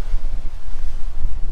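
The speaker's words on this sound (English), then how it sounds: "It's windy." Gusty wind buffets the microphone at a lakeside resort campsite in Pahrump, producing a loud, continuous low rumble that surges and dips with no other sounds.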